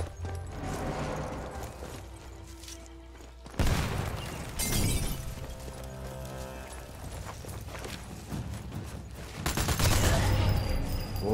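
In Sniper Elite 4, grenade explosions and a rattle of gunfire break out. There is a sudden heavy blast partway through, clattering debris and shots, then another loud burst near the end, all close and harsh.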